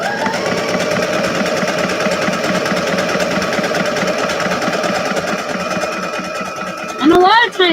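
A sewing machine runs continuously with a fast, steady mechanical whir and stitch chatter as it sews a buttonhole, close and loud, with a voice speaking briefly near the end.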